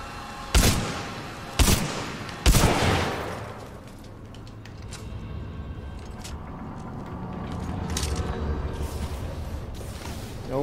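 Three loud, sharp gunshots crack out roughly a second apart in the Titanfall 2 campaign level The Beacon, followed by a steady low rumble of game ambience and faint mechanical clatter, with no voices.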